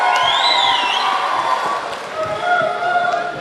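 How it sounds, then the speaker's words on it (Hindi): An audience at the Eid Milan All India Mushaira in Gandhi Bhawan, Lucknow, claps and cheers loudly to welcome poet Ekta Aarya on stage, a dense, steady wash of applause and shouts. "जोरदार तालियों से इनका इस्तकबाल करके इन्हें इजाजत दीजिए"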